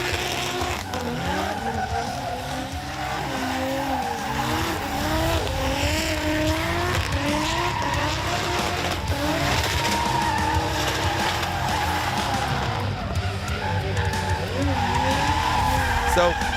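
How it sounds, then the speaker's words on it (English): A Nissan R32 drift car doing burnout donuts at Toronto Motorsports Park, tires squealing continuously over a loud revving engine with wavering pitch, steady and close, with a commentator's voice mixed in. "So we have Lee Yearwood and Jason Farron just lighting up the last of his tires on the Keep It Read R32."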